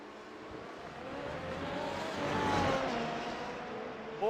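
F1 cars race in a sim-racing round at the Emilia Romagna Grand Prix, a steady, fairly quiet engine drone that swells as one car draws closer, with no voices.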